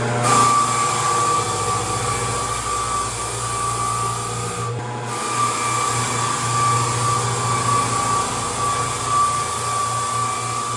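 Steady, loud whine of a vacuum cleaner running continuously over a freshly sanded wood floor, with a brief dip partway through, then resuming at full drone.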